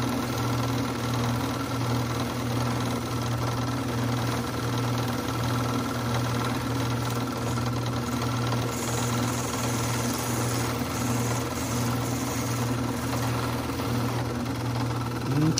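A small motorized machine polishing a handmade wood ring drones steadily with a low mechanical hum and faint rubbing hiss, running continuously with no speech.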